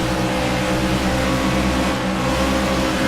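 A race car engine drones loud and steady as the car accelerates off a turn on an oval track, a sustained buzzing roar with no distinct gaps.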